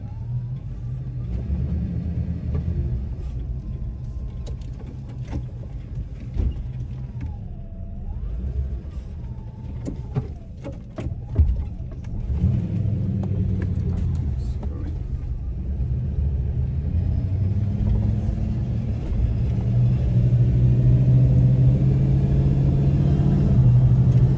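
A Sportsmobile E250 adventure van drives on a test drive, its low engine rumble and road noise steady throughout and building slightly toward the end, with some speech mixed in.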